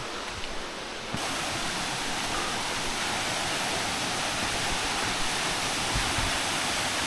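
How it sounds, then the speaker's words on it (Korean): A 40-metre natural waterfall in a Gyeonggi-do valley roars steadily, a dense continuous rush of falling water that grows louder after the first second and holds close and unbroken with no voices. "이거 폭포잖아."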